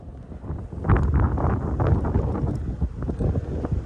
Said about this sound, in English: She's pretty windy.